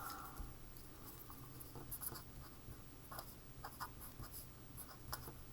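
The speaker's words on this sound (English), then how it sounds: "So I'm going to write that out." Quiet pen or marker scratching out an equation on a board during a thermodynamics lesson, soft intermittent strokes and taps in a short irregular rhythm over low room noise.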